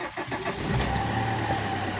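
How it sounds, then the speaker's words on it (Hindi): A turbocharged car engine, just fitted with a replacement barometric pressure sensor, starts up and settles into a steady, close idle hum with no talking. "अभी गाड़ी चालू करता हूँ"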